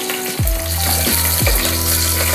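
Green chillies hit hot oil in a pan and set off a loud, steady sizzle, with a few clanks of a spoon or pan against the hard cooking surface underneath.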